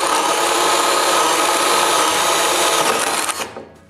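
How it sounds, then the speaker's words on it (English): A power drill bores holes for wires through wooden wall planks with a steady high-pitched whine that holds for several seconds, then quickly spins down and stops. "After all the holes are drilled for the wires, I'm able to put the planks back."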